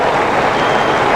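A cricket crowd at Perth applauds a boundary six during a 1992-93 match against Australia, a steady wash of clapping and cheering that fills the whole brief moment evenly and loudly, with no voices standing out.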